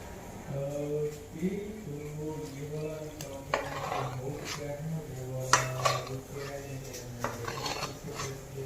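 A utensil scrapes and clinks against a pan as jaggery is stirred into oil to melt, with light repeated metallic taps and rubbing under a person talking throughout.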